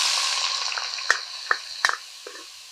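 Sliced onion and green chili frying in hot oil in a kadai, a bright steady sizzle with a few sharp crackles and stirring taps, close and without talk.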